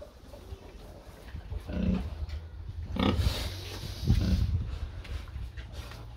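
A huge pet pig weighing about 500 kg, some 20 months old, gives low, rough grunts in a few loose bursts, close by and moderately loud, with snuffling and shuffling in the pen between them.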